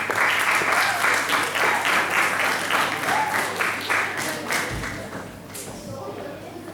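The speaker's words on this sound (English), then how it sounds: "So may we all give a round of applause to Mr. Isaac." An audience at a Model United Nations conference applauds steadily, a crowd of hands clapping that fades out toward the end, with some voices beneath it.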